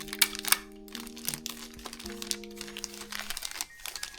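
Wrapping paper is crinkled and handled close by in soft, irregular rustles, with faint tonal hum in the background.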